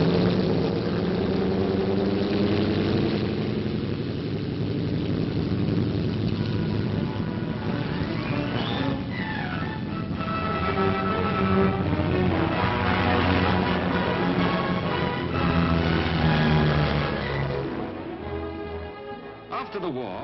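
RAF Washington (B-29 Superfortress) bomber engines give a continuous low droning roar, muffled and band-limited as on an old 1951 recording, under steady spoken narration.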